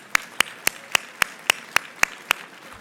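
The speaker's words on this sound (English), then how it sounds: "Let's give them a round of applause if we can." Applause at an awards dinner, heard as crisp, evenly spaced single claps in a steady rhythm close by, about four per second, over a low room murmur.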